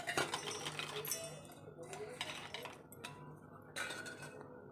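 Sesame seeds and peanuts poured into a steel mixer jar for a bitter gourd bharit, giving a rattling patter of small hard grains against metal with a few clinks, close and fairly quiet, in bursts.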